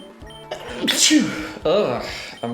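A person gives a sharp, loud sneeze in the middle, followed by a second burst, over a background of video game music and speech.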